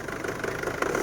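Isuzu Trooper engine with a suspected turbo problem, running with a steady mid-pitched idle-like drone and a slight knock, rising a little in the final moments, no talking.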